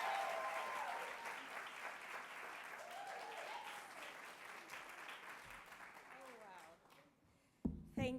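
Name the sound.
audience applause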